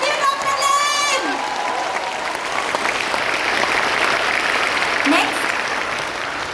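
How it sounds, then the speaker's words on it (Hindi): An audience claps for Doctor Lim at a health talk, broad continuous applause with some cheering, a brief voice and tonal sounds near the start, the clapping building and holding steady to the end. "हाथ उठा के ताली मारिए डॉक्टर लिम के लिए।"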